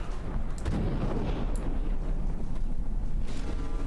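Torpedo blasts in the naval combat game From the Depths roll out as a continuous heavy, booming rumble with sharper cracks scattered through it, loud and close, with no speech.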